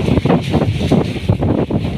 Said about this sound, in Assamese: এনেকৈ গোটেই নিশাটো এনেকৈ বতাহ মাৰি আছে চাই লওক।